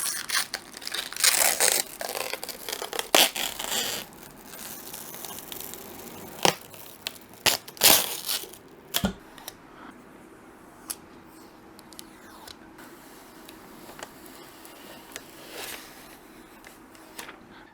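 Protective film being peeled off a Gigabyte RTX 4070 Aero OC graphics card: repeated crinkly plastic tearing and crackling in bursts, close and fairly loud at first, then quieter intermittent rustles and small snaps.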